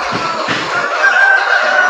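A large flock of about 3000 Sonali super hybrid parent chickens, 14 days old, fills a poultry farm shed with a loud, dense, continuous chorus of overlapping clucks and chirps.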